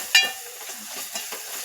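Spice mixture of turmeric and salt being sautéed and stirred in a pan for peanut amti, a soft steady sizzle with a sharp utensil scrape near the start and faint stirring scrapes after.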